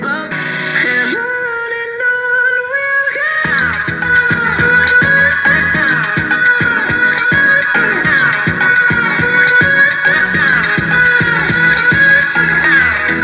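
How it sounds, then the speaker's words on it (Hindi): Music with a singing voice plays through a SkyBall Neo 20 16W RGB Bluetooth soundbar, starting with a sung melody and then shifting into a steady, punchy beat with bright, full sound throughout, loud and continuous without talk. "सो गाइस हमने अब एक वोकल्स के साथ में म्यूजिक प्ले कर दिया है"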